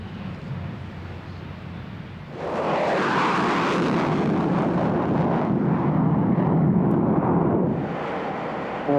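A jet aircraft at 30,000 feet and about 0.95 Mach gives a loud, continuous roar that suddenly swells into a deeper, harsher rumble as the afterburner lights, staying powerful and steady to the end.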